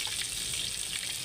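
Bocha fish frying in a pan, a steady close sizzle with crackling oil filling the whole moment, no voices over it.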